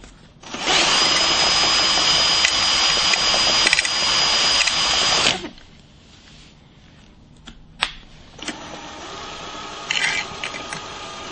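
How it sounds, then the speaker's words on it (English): A hand drill run in reverse spins a homemade axial flux alternator built from a saw blade and hard drive magnets, giving a loud, steady whirring drone for about five seconds before cutting off, followed by faint clicks and handling noises. "I'm going to reverse the drill."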